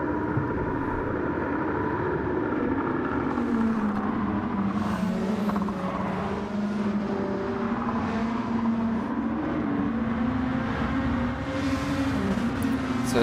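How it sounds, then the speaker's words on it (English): A safety car drives around the Kyoto circuit in a touring car racing game, giving a continuous engine drone at steady revs with a slowly shifting pitch and no other sounds. "But safety car now out on the track."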